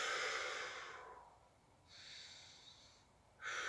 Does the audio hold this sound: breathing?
yes